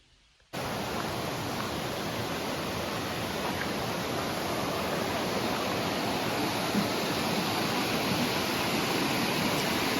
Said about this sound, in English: Laurel Creek.